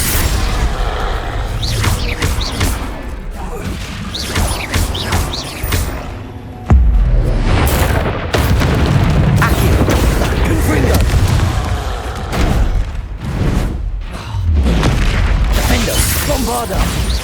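Bombarda blast spells in Hogwarts Legacy, a dense run of heavy booms and crashing impacts over a constant rumble, with a sharp louder hit partway through and a voice talking over the action.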